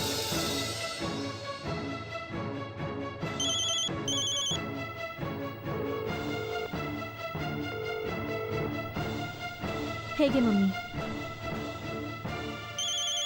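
A phone rings with a repeating electronic melodic tone that keeps going over several bars, fairly loud and close, while a person briefly speaks.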